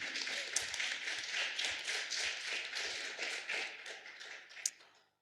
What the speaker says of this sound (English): I think that deserves actually a round of applause in its own right